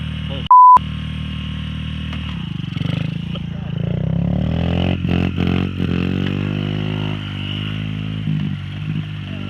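Two small pit bikes, a Honda XR50 and a Z model, idle and rev together, the engine tones rising and wavering up close after a short electronic beep, with people talking over the running motors.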